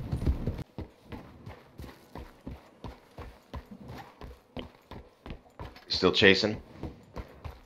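A horse gallops in Red Dead Online with a steady, close rhythm of hoofbeats running right through, and a louder clatter of other sounds near the end, while someone speaks briefly.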